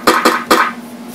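A snare drum sample triggered from a MIDI controller sounds three quick close hits, two rapid ones then a third, each with a short bright rattle and brief decay.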